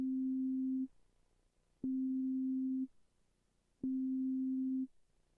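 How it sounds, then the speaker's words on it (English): An Arduino synthesizer with an OP·A shield plays note 60 as a plain sine wave: three steady, clean tones, each about a second long with a sharp click at onset, separated by short gaps of near silence. "the note 60 seems to play with the default program, which is just a sine wave"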